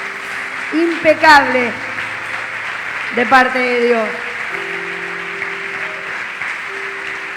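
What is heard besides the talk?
congregation applause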